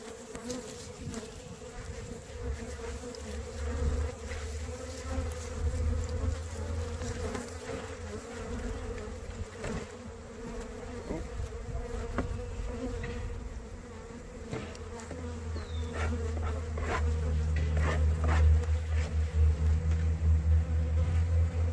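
Honeybees swarming around an opened hive, a dense continuous buzz with individual insects zipping close past and away, humming steadily for about twenty seconds and growing slightly louder toward the end, no talking.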